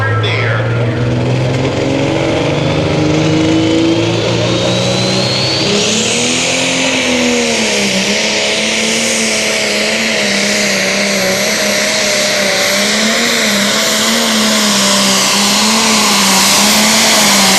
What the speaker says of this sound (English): You know, a diesel engine is a lower RPM engine.